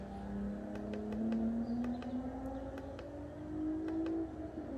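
A Nulksen portable tire inflator runs steadily with a droning motor whine that slowly rises in pitch, overlaid by faint rhythmic ticks, close and continuous with no talk.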